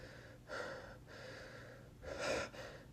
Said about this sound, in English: gasping for air